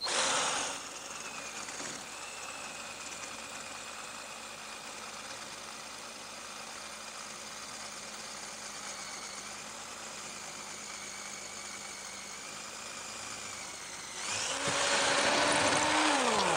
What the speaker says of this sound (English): what about the blue metal concrete here?